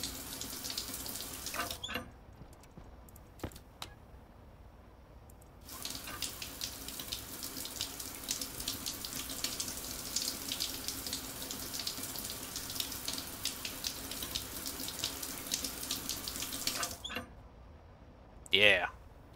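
A shower runs in the video game Stationeers, a steady hiss of falling water broken by short pauses and clicks, with faint speech around it.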